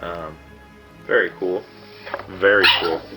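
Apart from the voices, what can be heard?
dogs barking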